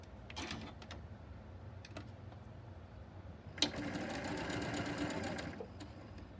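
A sewing machine stitches a quarter-inch seam on nine-patch sunflower quilt pieces, a few short bursts early on and then one sustained rapid run of stitching, close and fairly quiet.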